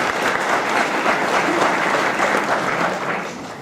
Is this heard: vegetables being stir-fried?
no